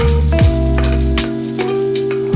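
Onion and cabbage sizzling loudly in a hot pan while cooking veg manchow soup, a steady close frying hiss with brief stirring scrapes, no talking.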